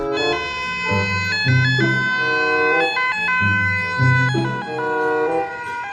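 Toy ambulance siren playing a loud, electronic multi-tone wail that cycles rapidly through stepped pitches in a repeating pattern, close and continuous without any talking.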